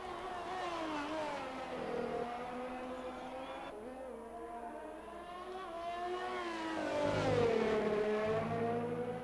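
A Red Bull race car's engine whines steadily uphill through Eau Rouge at Belgium's Spa circuit in an Xbox One racing game, pitch sliding as it shifts and rising again near the end.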